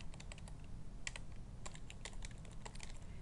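Rapid, uneven keystrokes on a computer keyboard as a website address is typed into Internet Explorer, soft and close, with no other sounds.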